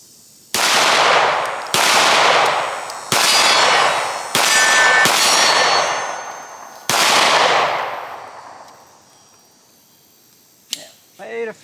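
Browning Hi-Power and 1911 pistols fired at steel targets, with six loud, close shots at irregular intervals, each followed by a ringing metallic clang that fades slowly, ending in a quieter metallic clink.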